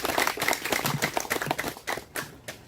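Applause at an outdoor memorial ceremony in front of an old family home, with a crowd clapping in a dense stream of individual claps that stays lively, then thins into scattered final claps.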